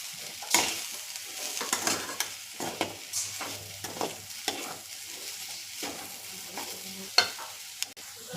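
Mashed boiled sweet potato roasting in ghee in a pan. A soft sizzle runs throughout, broken by irregular scraping strokes of a spoon stirring and pressing the thick mash, with no talking.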